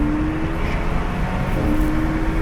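A stanced BMW 228i tuned to stage 2 on E85 pulls hard in second gear from a 40 mph roll, its loud, steady engine drone building under acceleration from inside the car, with no one talking.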